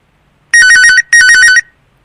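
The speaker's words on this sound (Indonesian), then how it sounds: "Hai, maaf ya teman, saya dapat telepon." A phone ringtone plays as a sound effect in a narrated story, sounding in two loud bursts of bright, warbling electronic chime tones separated by a brief gap, with silence before and after.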